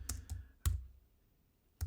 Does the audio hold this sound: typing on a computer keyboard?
yes